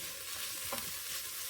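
Garlic stirred in oil inside an Instant Pot sizzles steadily, with one short scrape of the spoon partway through, heard up close.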